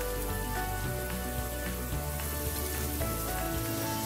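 Chunky, meaty oxtail pieces in a yogurt marinade fry in a hot pan, giving a steady, even sizzle and crackle that fills the whole moment without any talking.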